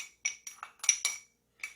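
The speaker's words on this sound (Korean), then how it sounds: "설탕이 다 녹으라고 이렇게 좀 이렇게 섞어주세요" Metal spoon clinking against a bowl while stirring sugar into a sweet sticky rice yakbap mixture, a handful of short clinks and scrapes in an irregular rhythm, close and fairly quiet, with no talking.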